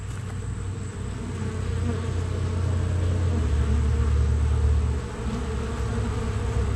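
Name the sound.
honey bees buzzing at hive entrance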